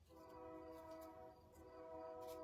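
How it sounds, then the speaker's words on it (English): A train passes at some distance, a steady faint rumble with a sustained horn-like tone running throughout, heard alone without talk. "Oh, there's the train."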